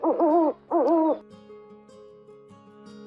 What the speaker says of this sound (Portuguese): Coruja.